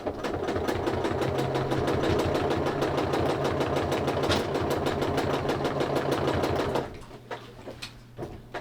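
A sewing machine quilts along a diagonal line on a Dear Jane quilt, its rapid, even stitching close and loud for most of the stretch before stopping near the end.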